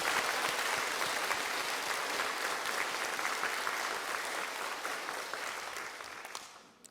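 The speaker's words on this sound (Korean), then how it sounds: "하나님 앞에 영광의 박수 한번 합시다." Congregation applauding in a church worship service on Children's Sunday, a dense, steady clapping that carries on for several seconds before tapering off at the end.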